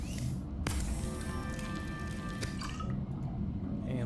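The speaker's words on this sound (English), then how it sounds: "let's turn our bladderfish into some water" Underwater crafting chime from the Subnautica fabricator turning a bladderfish into water: a soft liquid squish and spray, then a sustained tonal hum with a bright onset, fading after a few seconds.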